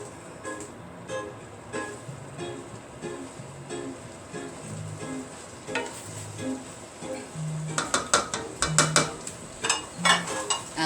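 Okra stirred into a pot of black bean stew, with soft scraping, light clinks of a spoon against the pot and faint bubbling, growing into louder clatter of utensil knocks near the end.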